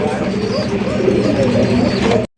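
Rajshahi Giribaj pigeons cooing loudly and close, a continuous layered burble of throaty coos from several birds, with a speaking voice mixed in.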